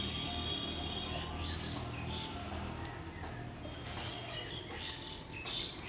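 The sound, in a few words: birds calling around a rooftop in the morning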